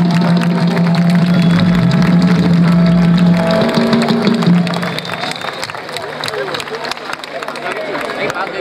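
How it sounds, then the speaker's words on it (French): An audience applauds at an official ceremony in Benin, a dense, sustained wash of clapping with crowd murmur and a steady low hum underneath, thinning a little toward the end. "Applaudissons pour eux"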